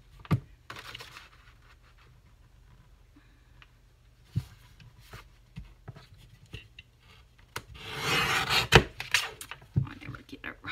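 Paper being cut for a window belly band craft, with scattered snips and handling taps followed by a longer rustling cut, close and quiet with a little talk.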